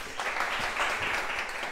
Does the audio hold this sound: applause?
yes